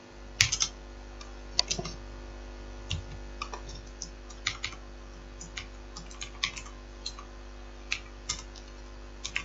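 Keys clatter on a computer keyboard in bursts of soft, close clicks with short pauses between, over a faint steady hum, with no voice.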